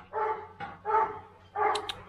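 A 40-day-old puppy from a fierce, aggressive guard-dog line barks three times in close succession, nearby and fairly loud, with short yelps and whimpers in between.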